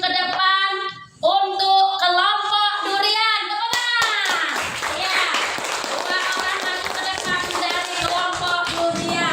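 Fifth-grade students in a classroom clapping in a patterned, rhythmic chant, with children's voices singing along and a teacher speaking over the sharp, close hand claps.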